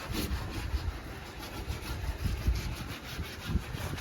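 Sandpaper rubs by hand across a jeepney body, a steady rhythmic rasping of repeated strokes, close and fairly loud with a low rumbling background and no talk.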